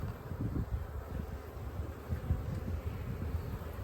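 Honey bees droning steadily around an open, strong hive during an inspection, a dense low buzz that holds at a constant level for the whole stretch with no voices.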